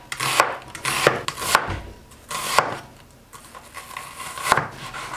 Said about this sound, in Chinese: 洗干净切成洋葱丝